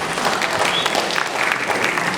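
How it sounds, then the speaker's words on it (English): Sustained, even applause fills a convocation hall as the assembled audience claps together, a thick, constant patter without pauses from start to finish. "If you are clapping, you can do better and do better."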